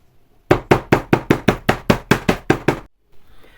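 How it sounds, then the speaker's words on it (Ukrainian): Chicken fillets being pounded flat with a mallet in a home kitchen: about eleven sharp, evenly spaced thuds in a steady rhythm, close and loud, then a quiet pause with faint rustling. "мені треба оце відбити, оці філешечки"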